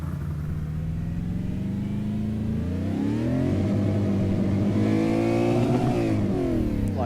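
A V8 Supercar engine in the iRacing sim with low particle effects, revving steadily upward through the gears in a continuous, moderately loud drone with no talk.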